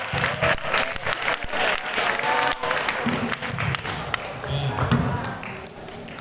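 Students at a Ramadan pesantren closing at a Jakarta high school clap for a classmate, a lively burst of group applause with scattered voices mixed in and some louder individual claps.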